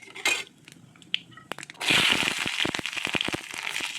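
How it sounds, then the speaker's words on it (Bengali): Black cumin seeds drop into hot oil in a wok, a brief crackle at first, then a loud burst of spattering sizzle with sharp pops that keeps going steadily. "তেল গরম হয়ে যাওয়ার পর প্রথমে তেলের মধ্যে কালো জিরে দেওয়া হলো"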